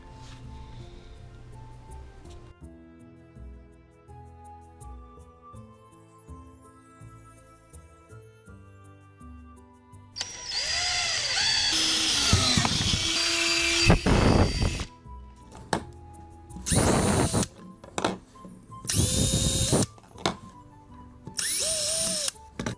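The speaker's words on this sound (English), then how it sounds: "Using an extension on the screwdriver, using an extension on your drill bit makes this a piece of cake" After a quiet stretch with soft background music, a power drill fitted with an extension whirs loudly in repeated bursts, revving up and stopping as it drives screws close by into a kayak stand-up bar.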